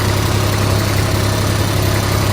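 A Kubota RTV X1140 utility vehicle engine held at steady high revs in high gear, a loud, continuous drone with a strong low hum and no breaks.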